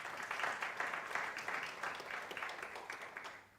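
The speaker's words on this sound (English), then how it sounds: "Please give her a round of applause" Audience applause at a stakeholder roadshow event in Durban, a steady spread of clapping from a modest crowd that holds evenly and fades out toward the end, fairly distant and soft.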